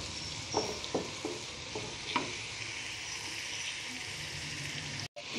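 Tomato and spices fry in a pan with a constant sizzle, while several sharp scraping stirs cluster early and a brief clatter comes near the end.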